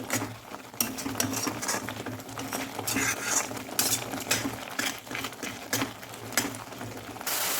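A coconut and sugar barfi mixture fries in a pan while a utensil stirs and scrapes in quick, irregular clatters over a continuous sizzle.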